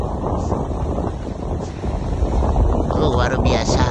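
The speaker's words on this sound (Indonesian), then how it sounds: "Pagi ini angin ribut di laut Tabuniau." Stormy wind at sea in Tabanio roars in a dense, continuous rush of gusts and water noise as a boat is tossed on the waves, loud and close against the microphone.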